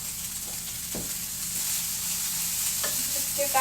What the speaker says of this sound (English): So now we're going to pop in our tofu.